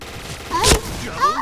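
A single loud gunshot from a JackHammer shotgun bursts mid-clip in Point Blank, followed by faint tonal game effects and a short rising chirp.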